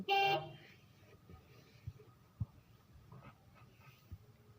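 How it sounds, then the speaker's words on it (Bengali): An Ashok Leyland Phoenix pickup truck sounds its horn in one short, loud honk at the very start, followed by quiet knocks and faint background noise. "হর্ন সিস্টেমটা এখানে দেওয়া হয়েছে।"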